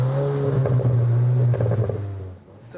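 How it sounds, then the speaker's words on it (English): A 2021 VW Arteon R with quad exhausts accelerates, its deep engine note climbing steadily under load, then cutting off into a softer fading drone. "One of the new Arteon R's distinguishing marks, the quad exhausts producing the kind of exhaust note you want to hear."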